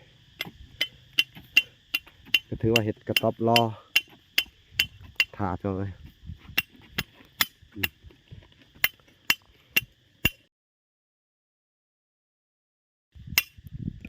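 Nails being hammered into a wooden post for a hut, sharp hammer blows landing in a steady rhythm of about two dozen strikes, then a long pause and a final pair, with someone talking between some of the blows.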